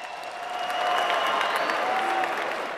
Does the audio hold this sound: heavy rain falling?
no